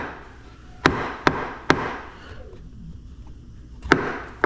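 A kayak's throttle mount, fitted without a nylon washer on a Bonafide RVR 119 river kayak, knocks against a plastic piece of the hull: four or five sharp, close hard-plastic clacks in an uneven rhythm, with quiet gaps between.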